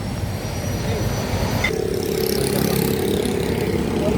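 An Isuzu 4B diesel engine with an unstable idle, running as a steady, loud, broadband drone that shifts character partway through as the idle surges.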